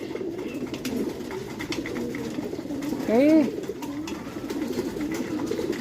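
Pigeons coo in one short, close rising-and-falling call midway, set against soft background murmur and brief speech.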